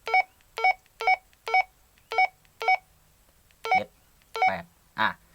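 A series of short electronic menu beeps from a Baofeng UV-5R two-way radio, evenly spaced at first, then a few slightly different tones, each crisp and close.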